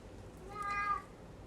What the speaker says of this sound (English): My cat is saying hi like she usually does.